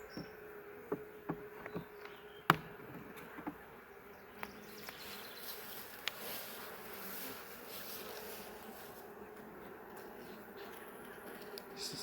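Laying worker honey bees buzz steadily in an open nuc, a soft, continuous hum with scattered faint clicks and knocks from handling the hive frames, and no voices.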